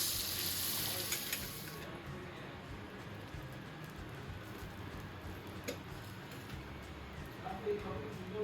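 Spiced dal sautéing in a pan gives a steady close sizzle with occasional stirring scrapes, loudest at first and then settling into an even frying hiss throughout.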